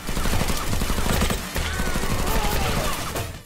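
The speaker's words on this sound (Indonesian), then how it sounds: "Aksi baku hantam serta aksi baku tembak pun terjadi antara tim perampok dan Ompai" Rapid bursts of gunfire crackle through a dense action-film shootout between a robbery crew and a lone fighter in a bank, loud and continuous with a brief break midway and mixed with other battle noise.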